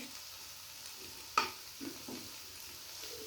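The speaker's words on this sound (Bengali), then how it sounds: "একটু নাড়াচাড়া করে দেব আস্তে আস্তে কিন্তু জাল দিচ্ছি" Bitter gourd, potato and onion frying in a pan while being gently stirred, a faint sizzle under one sharp scrape and a few soft stirring knocks, quiet and close.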